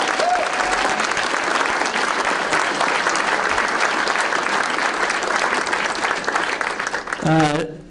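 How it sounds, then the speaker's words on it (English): An audience at a charity awards event applauds Judge Dwayne Woodruff, a former Pittsburgh Steeler, with steady, dense clapping that fills the room for several seconds before tapering off at the end. "Let's hear an applause for that, Judge."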